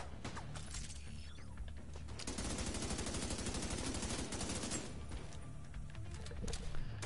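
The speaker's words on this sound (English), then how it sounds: "here comes a turret, bitch. Have a turret." A deployed turret fires in The Division 2, rapid automatic bursts hammering out for a few seconds amid background game noise.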